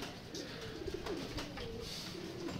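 Racing pigeons coo softly at a loft in Santa Maria, a few low, rounded calls repeating near and fairly faint over steady background noise.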